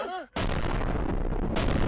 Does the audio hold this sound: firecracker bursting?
yes